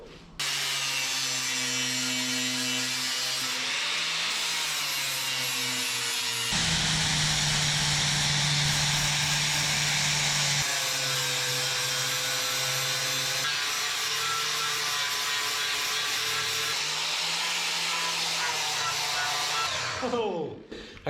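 A flap disc grinds against the steel frame of a 1984 Chevrolet S-10 truck, a loud, continuous whirring rasp whose pitch dips and rises as pressure shifts, with short pauses between passes.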